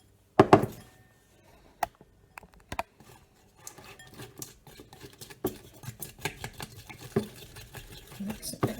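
Scraping, clicking stirs of a thick slime mix of paint, bicarb and white PVA glue in a container, irregular and close, starting with a few isolated knocks then turning into busier continuous mixing.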